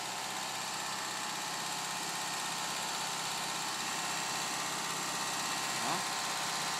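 A car engine idles steadily and evenly with a constant low hum, heard from nearby with no revving, and a faint voice appears near the end.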